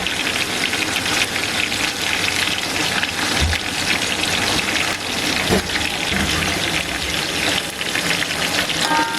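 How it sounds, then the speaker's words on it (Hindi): Chopped tomatoes sizzling in hot oil in a pan for kadhi pakora, a loud, steady hiss and crackle throughout with a few brief knocks of a stirring spoon. "टमाटरों को नरम होने तक फ्राई करेंगे।"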